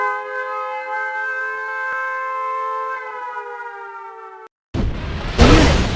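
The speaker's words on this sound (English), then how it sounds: "Warning, nuclear missile launched." A wailing nuclear missile launch warning siren from the game Red Alert 2 holds a steady, layered tone for several seconds, then cuts off abruptly before a loud burst of noise like an explosion.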